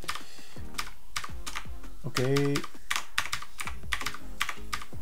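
Rapid clicky keystrokes on a retro-style mechanical gaming keyboard tap in a steady rhythm, close and crisp, with a brief spoken word in the middle.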